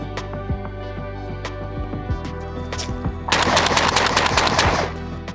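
Semi-automatic shotgun fitted with a choke, fired as an anti-drone gun: a rapid string of loud, close, sharp shots, spaced evenly at first, then bunching into a dense burst of blasts near the end.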